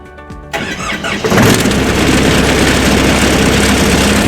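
Engine of a Sparte series machine cranking, then catching and settling into a loud, steady running rumble close by, after a brief quieter moment at the start.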